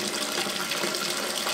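A toilet cistern refills through its float valve, giving a steady, close hiss and gush of running water that holds constant throughout with no talking.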